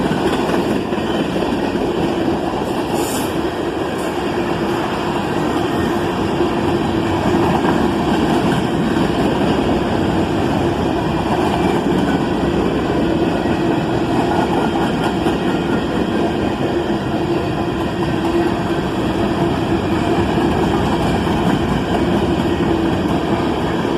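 A long manifest freight train hauled by GE locomotives rolls slowly through town, with a steady, unbroken rumble and low wheel-and-rail clatter close by. It is loud and even throughout, and no voices are heard.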